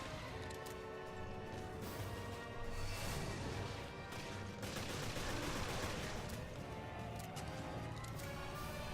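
Gunfire aimed at a boss in Resident Evil Revelations, dense rapid shots and impacts layered over loud game noise, with a few heavier crashing bursts mid-fight.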